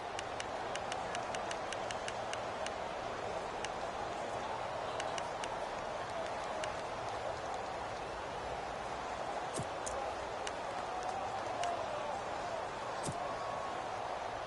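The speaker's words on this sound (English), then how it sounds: "Listen to this crowd now." Steady, broad stadium crowd roar in a football video game on PS4 during a 2-point conversion, with scattered sharp clicks and taps on top, continuous and fairly distant, no voices standing out.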